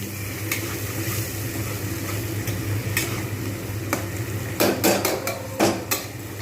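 Spice masala frying in oil for a patal paneer dish, a constant sizzle with repeated spoon scrapes and clinks against the pan, growing busier toward the end.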